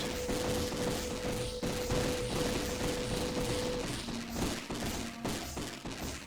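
Rapid volleys of darts firing at a boss in the space shooter Nova Drift, a dense, continuous crackle of overlapping shots with a sustained electronic tone underneath, loud and steady throughout.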